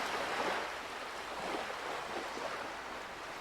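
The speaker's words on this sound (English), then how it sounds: "Let's close our eyes and listen to the waves washing up on the" Ocean waves washing up on a beach shore, a steady, close wash of surf with a soft swelling rhythm and no voices.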